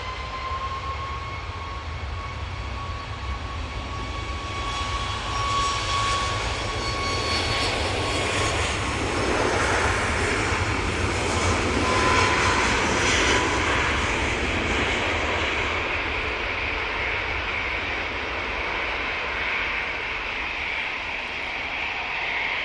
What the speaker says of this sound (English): Ryanair 737 MAX 8 lined up now. Set off to Faro.